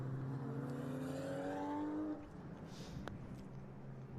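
Touring race cars from a 2017 Pirelli World Challenge TC/TCA/TCB round climb out of Moss Corner at Canadian Tire Motorsport Park, their engines whining faint and distant, with rising then fading pitch over a muffled rumble.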